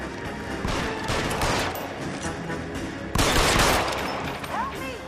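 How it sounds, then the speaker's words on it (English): Rapid gunfire and bursts of shots in the video game L.A. Noire, loud and dense over game music and ambience, with a sharper volley near the middle and voices mixed into the action. "Sabo, stop or I will shoot"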